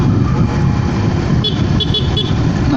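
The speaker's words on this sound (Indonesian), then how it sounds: "Nah, klaksonnya gitu aja, jangan dipanjer." A motorcycle horn gives short toots from a rider on the road, sounding close and loud over a steady engine and traffic rumble, with a few brief beeps late in the clip.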